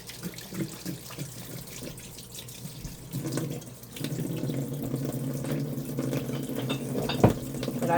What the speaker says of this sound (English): Add a little bit of warm water to that, where it's just so dry.